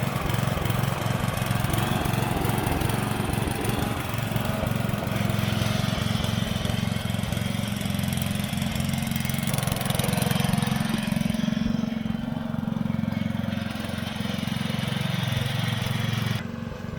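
A newer tractor's engine runs steadily close by, a loud continuous mid-pitched chugging drone with slight shifts in load and no talk over it.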